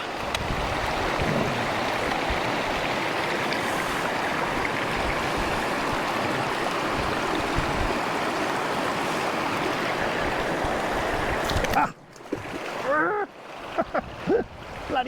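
The River Severn rushes steadily in a loud, continuous wash of flowing water that cuts off abruptly near the end, leaving quieter splashes and faint movement.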